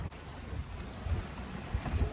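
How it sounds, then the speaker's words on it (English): A sailboat runs fast before the wind at sea, with rushing wind buffeting the microphone and water surging and splashing along the hull in steady low pulses, with no voices. "we're sailing on pretty fast now"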